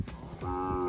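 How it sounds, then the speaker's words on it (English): A single grass-fed cow on a Zimbabwe farm gives a short, close moo that rises out of quiet rustling near the end of the moment. "They're all grass-fed cows."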